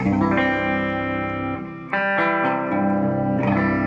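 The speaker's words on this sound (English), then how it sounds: "there's the clean signal. Got a little compression, a little bit of spring reverb." Clean electric guitar played through a compressor and spring reverb, ringing chords with sustained harmonic overtones, a brief dip near the middle before strumming resumes, loud and close with no talking.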